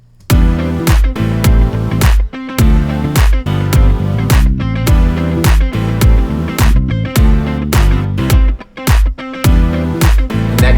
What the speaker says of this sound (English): They have this great funk guitar, like a single note guitar line